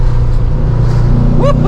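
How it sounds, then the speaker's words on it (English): A fine-tuned Porsche 356C engine holds a loud, close, steady revving drone for under two seconds, with a voice briefly breaking in near the end. "it revs right up to the 5 as well, doesn't it?"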